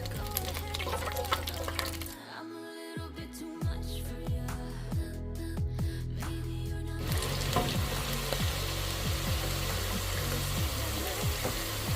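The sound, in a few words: french fries frying in hot grease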